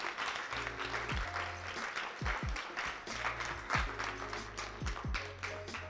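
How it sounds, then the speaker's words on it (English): An audience claps after a product presentation, a steady patter of applause lasting several seconds, mixed with low tonal sounds. "So please, another round of applause."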